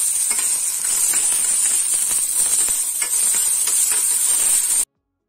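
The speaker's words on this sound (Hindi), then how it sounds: "तेल हो चुका है, इसमें मैं थोड़ी सी मटर लिया मैंने, थोड़ी सी हमें मटर को इसके अंदर फ्राई करना है।" Peas sizzling steadily in hot oil in a pan, a continuous bright hiss with scattered crackles and pops running close and loud for about five seconds before cutting out.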